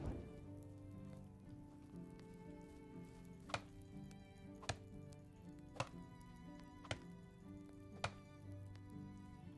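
An axe chops trees in the medieval survival game Medieval Dynasty: five sharp, evenly spaced wooden thunks ring out over a quiet ambient bed, with no talk.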